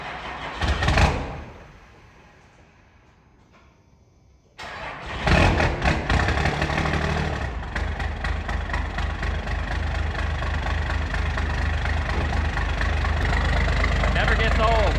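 A 1993 Dodge W350 with a 12-valve diesel cranks briefly, falls quiet, then fires and settles into a loud, steady, clattering idle close by, with someone talking over the rumble.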